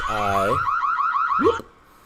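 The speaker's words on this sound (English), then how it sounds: "that's my alarm to let me know, hey, it's time to record." A phone alarm tone sounding near and loud, a warbling electronic beep pattern with a rising sweep that cuts off after about one and a half seconds, going off during a networking livestream.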